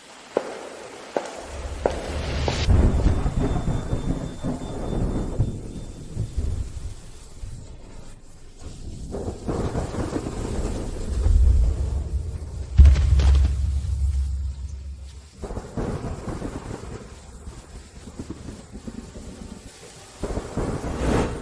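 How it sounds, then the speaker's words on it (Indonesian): Heavy downpour with rolling thunder, deep rumbles swelling and fading over a steady wash of rain, loud and close throughout with no talking. "Tidak bisa berjalan di hujan deras begini."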